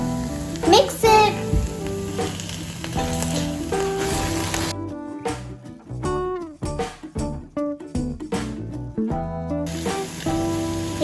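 Thick ash gourd halwa with cardamom and edible camphor is stirred in a pan, giving a bubbling sizzle at first and then a run of wet, sticky scraping and plopping strokes, close by.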